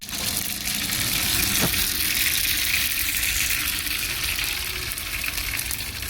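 Peas and potato vegetable curry with chillies sizzles loudly in a pan, a dense, steady frying hiss with a brief stir partway through.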